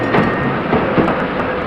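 A train at a station platform, heavy continuous rumbling and rattling of railcars close by, loud and steady with faint clicking over the wheels.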